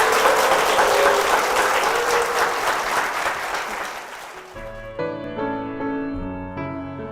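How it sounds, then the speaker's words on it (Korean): A church congregation at Sungkwang Church applauds steadily for over four seconds before the clapping gives way to a soft sustained music chord. "큰 박수 부탁드립니다"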